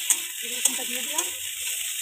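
Garlic hits hot oil in a pan alongside green chillies, giving a bright continuous sizzle with a few sharp crackles, close and steady, while a voice murmurs faintly underneath.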